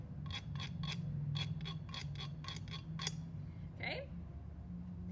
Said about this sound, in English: the way that you would make a sound on that is you would take a stick and actually scrape that bumpy surface